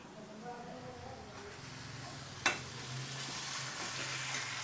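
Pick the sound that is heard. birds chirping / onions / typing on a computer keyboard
onions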